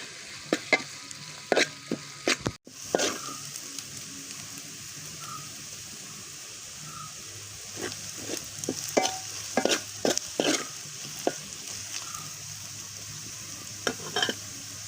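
Spice powders sizzle and fry in a pan for a Kerala-style crab roast, a soft steady crackle with occasional clinks and scrapes of stirring.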